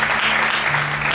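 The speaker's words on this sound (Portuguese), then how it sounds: "Então aplauda o Senhor com alegria, bem forte" A church congregation claps together, a dense, steady wash of applause filling the brief moment, with a faint voice blended underneath.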